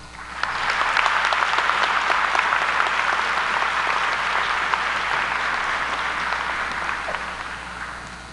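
Sustained applause from the audience at the Ayden Grifton High School class of 2013 graduation ceremony, a dense wash of clapping that swells quickly and holds steady for several seconds before tapering slightly.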